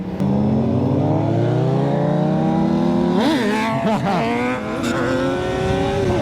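A loud motorcycle engine revs hard, its pitch rising steadily, then blips up and down several times close by with barely a pause.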